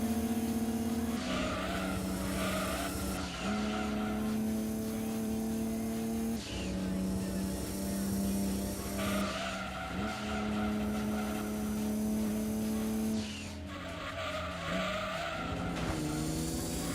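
Tyres squeal and skid on a Vauxhall Astra race car in Gran Turismo 2, a loud, sustained screech over steady engine drone, shifting pitch in several long sweeps with brief breaks.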